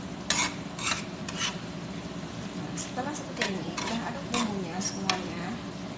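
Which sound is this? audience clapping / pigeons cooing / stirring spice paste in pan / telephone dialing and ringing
stirring spice paste in pan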